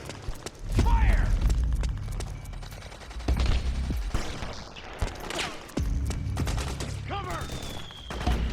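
Metal Gear Solid 4 battle gunfire, repeated loud shots and bursts in uneven clusters, mixed with shouted voices and mechanical clatter throughout.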